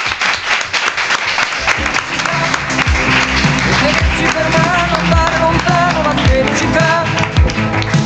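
A studio audience gives a strong round of applause for a guest, dense clapping that swells and holds steady, with music and some voices mixed underneath.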